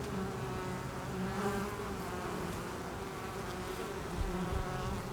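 Honey bees buzzing steadily around their hives, a dense, continuous drone at moderate distance with no voices.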